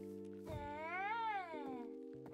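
One drawn-out, rising-then-falling cat meow from Minecraft, fairly close and clear over steady low game background sound, no one speaking.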